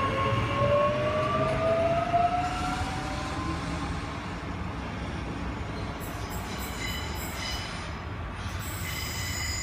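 A train departs Morningside Station in Brisbane, rumbling steadily with a long metallic wheel squeal sliding upward early on, then fading into a broad rolling roar with faint high squeaks.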